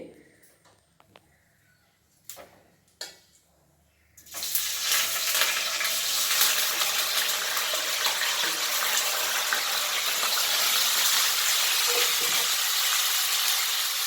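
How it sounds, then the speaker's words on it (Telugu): Paneer cubes dropped into a hot pan for a paneer masala curry, a few light clinks and taps first, then a sudden loud, sustained sizzle of frying that stays steady to the end. "ఇవి పన్నీర్ ఉంటాయి కదండి కొంచెం వేయించుకుంటే బాగుంటుంది"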